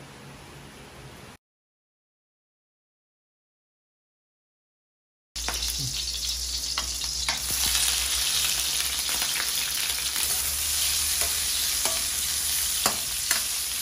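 Pork liver sautéing over medium fire for menudo: a brief sizzle, a few seconds of silence, then a loud, steady frying hiss with scraping stir strokes and occasional pops.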